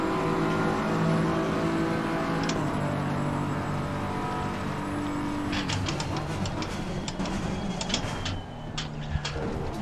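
A race car engine in the Assetto Corsa Competizione game drones steadily under load with shifting pitch, then gives way to sharper clicking and rattling noises as the car brakes.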